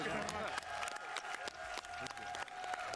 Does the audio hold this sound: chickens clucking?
no